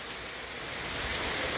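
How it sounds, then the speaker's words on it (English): End-of-summer rain pours down in a steady, dense hiss of drops hitting surfaces, close and constant, with no voices over it. "This is summer rain, end of the summer rain,"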